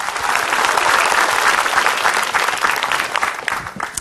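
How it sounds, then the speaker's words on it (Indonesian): Steady, loud applause from an audience at an Islamic religious talk, a thick continuous wash of clapping lasting about four seconds with no gaps. "Tepuk tangan buat Kak Nabila."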